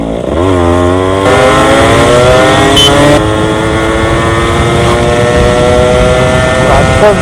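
A Yamaha RX100 two-stroke motorcycle being ridden, its loud, buzzy engine revving up and shifting through rising pitches close by, with a voice briefly heard over it.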